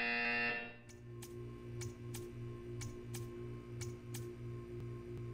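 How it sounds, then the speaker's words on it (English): A high-pitched electronic buzzer in the video game Portal 2 sounds briefly, followed by a steady series of sharp ticking pulses over a low droning hum. "You will hear a buzzer."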